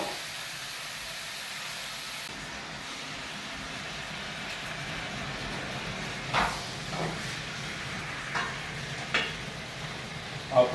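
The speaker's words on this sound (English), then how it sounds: "fry the onions to become a bit translucent" Onions and tomatoes frying in a pan with a soft steady sizzle, a few faint clinks and stirring knocks toward the end, quiet and close.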